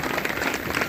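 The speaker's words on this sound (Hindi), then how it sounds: "एक बार सबके लिए जोरदार ताली के साथ में अभिनंदन करें।" An audience at a bicycle distribution event in Farsaguda, Bhanpuri, claps together, a short, steady burst of applause of moderate loudness with no talking over it.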